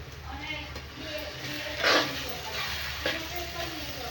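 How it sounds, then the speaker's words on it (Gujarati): Sweet corn kernels dropped into a pan of frying masala of onion, tomato and chili, a steady sizzle that surges briefly in the middle, with a voice speaking over it. "હવે નાખી દઈએ મકાઈ ડોડાના દાણા."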